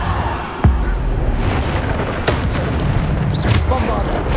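Bombarda blasting spell explosions in the game Hogwarts Legacy, a sharp low boom near the start followed by further bursts and whooshing magic effects over a constant dense game soundscape.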